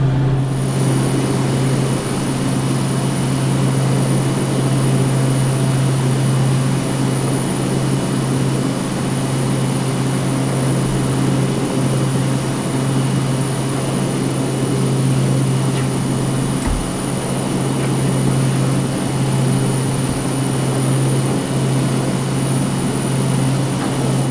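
A T-6A Texan II turboprop trainer in a flight simulator drones steadily during takeoff and climb, a loud continuous engine hum with a constant high whine and no talking.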